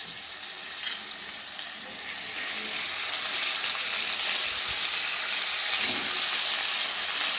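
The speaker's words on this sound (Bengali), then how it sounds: "মাছগুলো এবার আমি ভেজে নেব।" Koi fish fry in hot mustard oil in a pan over a medium gas flame, a loud steady sizzle and hiss that runs unbroken with faint bubbling underneath.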